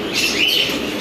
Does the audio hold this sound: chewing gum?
no